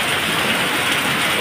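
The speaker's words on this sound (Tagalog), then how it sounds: "biglang buhos yung ulan eh" Heavy rain pours down without letup on a roadside shelter of a makeshift shack, a dense, steady, loud hiss filling the whole short stretch with no pauses or voices.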